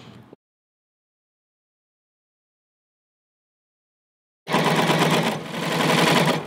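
A Baby Lock serger sews a 3-thread rolled edge on sheer fabric: a brief burst of rapid rattling at the start, a long silence, then about two seconds of loud, close, fast machine chatter.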